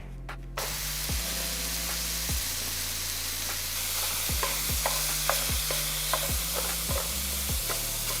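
Ground beef sizzles steadily in a non-stick pan while a small meat smasher presses and scrapes it, giving repeated rhythmic scraping strokes over a constant loud frying hiss.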